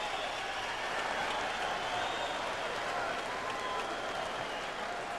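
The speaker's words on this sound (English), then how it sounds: "And he gets the crowd going." A boxing match crowd roars and cheers steadily throughout, a dense, continuous wash of arena noise with no break.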